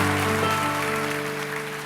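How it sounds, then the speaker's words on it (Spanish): Church congregation applauding during a worship service, a short burst of clapping over sustained organ or keyboard tones. "Dale un aplauso al Señor"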